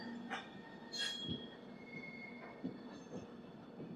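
A passing train near the Vijayawada junction, with a faint, distant rumble and sustained high wheel squeal with repeated screeching bursts.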